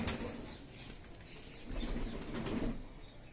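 A Kalmuha pigeon flaps its wings in bursts while being handled, close and moderately loud, with soft rustling and a faint coo-like murmur throughout.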